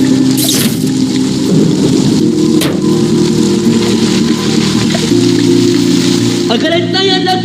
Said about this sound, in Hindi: बारिश जो थोड़ी थमी थी, एकाएक फिर झमाझम बरसने लगी